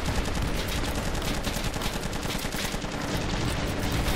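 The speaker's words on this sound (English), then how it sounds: "Where are we taking fire from?" Dense, continuous bursts of automatic rifle and machine-gun fire fill a heavy firefight in the modded shooter game Ravenfield, with no pause across the whole stretch.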